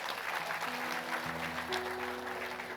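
An audience claps in agreement at a community gathering, a steady broad patter of applause lasting a few seconds with sustained tonal hum lines running underneath.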